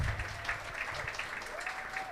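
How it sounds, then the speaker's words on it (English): Guests at a Hindu wedding clap in a steady patter throughout, moderately loud, with a faint tonal whistle or music line running underneath. "So please give him another round of applause"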